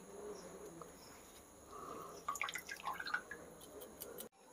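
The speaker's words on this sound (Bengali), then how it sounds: "এরম বেঁধে 10-15 মিনিট ঝুলিয়ে রাখবেন, জলটা ঝরে যাবে।" Whey drips from chhena (cottage cheese) hung in a cloth, a quiet scatter of small close drops and trickles over a faint background hum.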